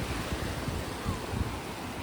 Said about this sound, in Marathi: एकदम मोठ्या लाटा आहेत